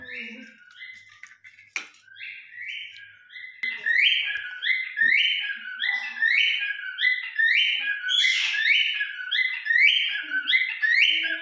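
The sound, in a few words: myna bird chirping and calling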